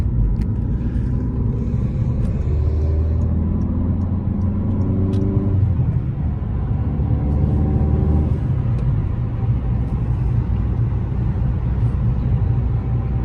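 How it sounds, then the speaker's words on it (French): A Citroën DS3 turbo diesel car accelerating, heard from inside as a loud, steady engine drone with rising and falling pitch as gears change over a constant road rumble. "Il y a une très belle reprise. Ça, c'est grâce au turbo et au diesel."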